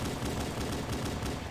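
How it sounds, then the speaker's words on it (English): Rapid automatic gunfire in Halo 5 rattles in a dense, continuous burst, loud and close, with no voices over it. "You're fucking hitting them with a random gun at point blank range."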